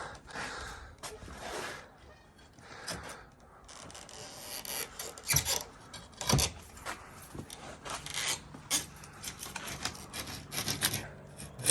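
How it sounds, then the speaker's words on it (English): A Guster Bar prying boards off and tearing screws out of wood, with repeated loud creaks, rasps and squeals in bursts, close and uneven, with brief breaths between. "look at those screws coming out there, just being peeled"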